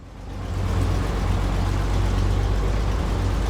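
Truck engine in the video game SnowRunner, played on hard mode while hauling logs, rumbles steadily at low pitch, swelling in over the first half second and then holding a continuous heavy drone.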